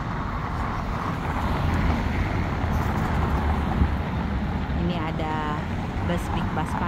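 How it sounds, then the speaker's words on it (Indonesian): On the Champs-Élysées in Paris at Christmas, traffic and a Big Bus Paris sightseeing bus make a continuous rumble with the general bustle of a busy street. "Bus Big Bus Paris ya, yang mengantar para wisatawan berkeliling kota Paris"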